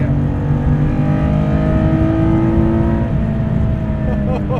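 A Guntherwerks 400R, a lightweight 431 hp car, holds its engine above 4,500 RPM, producing a loud sustained drone that climbs slowly in pitch from inside the cabin, with talk faintly under it.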